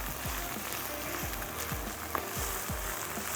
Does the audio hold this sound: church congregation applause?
no